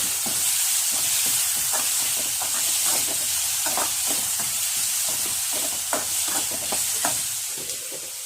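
Onions and tomatoes sautéing for Bombay chutney hiss steadily in the pan while a spoon stirs and scrapes in a repeated rhythm, close and moderately loud.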